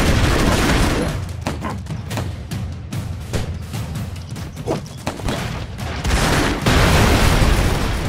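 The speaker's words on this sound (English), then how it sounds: "I'm gonna pop a grenade down there." Dense bursts of gunfire and booming grenade explosions from the side-scrolling action game Broforce pile up in rapid, loud clusters, with heavy blasts swelling at the start and near the end.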